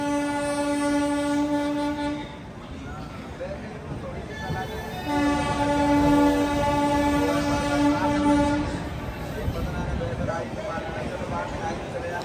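A diesel train horn sounds in two long steady blasts near a railway station as a DMU train pulls in, over the rumble of rail traffic and platform crowd noise.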